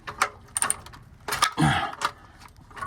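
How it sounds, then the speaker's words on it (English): A ratchet fitted with a 17 mm socket works the oil drain plug of a 2024 Honda Ridgeline during an oil change, giving short bursts of metallic clicking and clattering with gaps between them, close by. "this is a 17 millimeter socket, okay? You can use any kind of ratchet."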